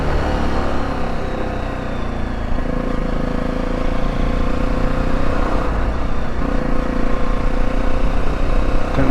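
A 125cc motorcycle rides on a UK road, its engine droning loud and steady throughout under heavy wind rush, with no break in the running sound.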